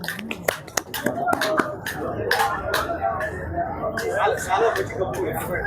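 People clap hands at a Guru Purnima gathering at a Shirdi Sai Baba temple, a burst of sharp, uneven claps close by, mixed with crowd chatter and voices.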